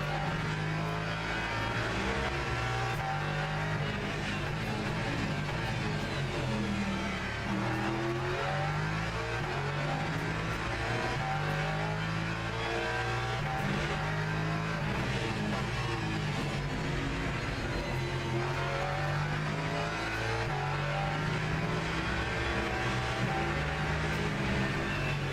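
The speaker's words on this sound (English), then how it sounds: "Was that a hypercar, maybe?" Hypercars race in the Le Mans Ultimate sim at a Qatar event, engine notes droning and shifting continuously as cars rev and pass, steady and fairly loud throughout with no talk.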